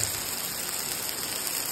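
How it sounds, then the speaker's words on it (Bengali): Steady, dense hiss of heavy rain falling outside, an even wash of noise with no distinct drops or voices. "দেখো বাইরে কি বৃষ্টি হচ্ছে,"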